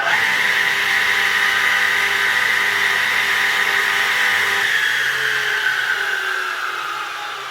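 The induction motor of a 1984 Elu KGS 172 flipover saw runs with a steady, smooth whirring hum, close and alone, and its pitch slowly falls as it begins to spin down.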